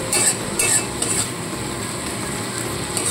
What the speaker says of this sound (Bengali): এবার মশলাটা খুব ভালো করে নাড়াচাড়া করে